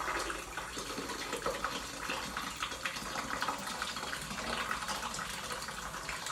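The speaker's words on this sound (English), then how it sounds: "So you're going to turn on the water." Tap water running steadily into a sink to wash developed film by the Ilford method, a continuous close splashing rush with no pauses and no talking.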